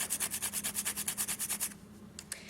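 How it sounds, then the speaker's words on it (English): A whole nutmeg is hand-grated for bread pudding with about a dozen quick, rhythmic scraping strokes, close and quiet, before the grating stops. "I am just going to grate some in there, because I think that'll give it a really good flavor"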